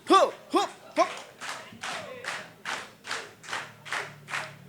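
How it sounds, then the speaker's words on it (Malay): Rhythmic hand clapping from an audience at a poetry night in Aceh, with about a dozen even, steady claps keeping time. Voices chant or call out over the first few beats. "Bak nyan tepuk tangan."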